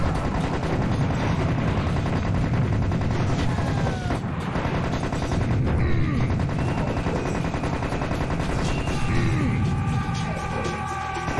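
Dense, continuous gunfire from Serious Sam HD: The First Encounter fills the scene, steady loud bursts of shooting at incoming projectiles in a desert oasis, layered with game effects and music throughout.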